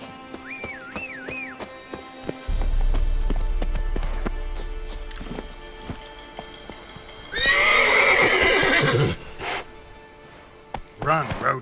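Roach the horse in The Witcher 3 whinnies, then hooves clip-clop in a rapid galloping run, with a loud snort and a further neigh standing out clearly over a low game rumble.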